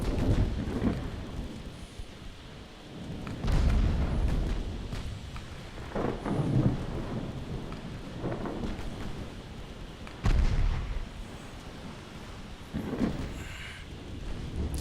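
Warship guns fire in a naval battle game, heavy deep booms rolling out at intervals over a constant low rumble, each blast landing with a broad thunder-like roar.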